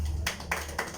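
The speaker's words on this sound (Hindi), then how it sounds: "तालियां बजाओ भाई।" Three sharp hand claps ring out in a slow, uneven sequence over a low background hum during a safety induction training session.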